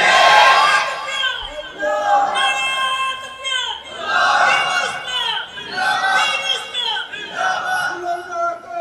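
A large crowd at a Bengali religious gathering roars Allahu Akbar in answer to a Takbir call, loud, close, repeated chanted shouts rising and falling in waves across several seconds.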